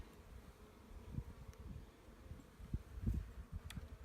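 Honey bees buzzing faintly around an opened hive during a spring inspection, a low soft hum with scattered louder bursts as individual bees pass close.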